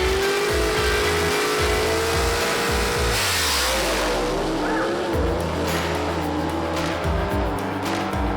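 Drag race cars launch, including a 1933 Willys gasser with a Par race engine, producing a loud, continuous engine roar with revving and squealing tires throughout.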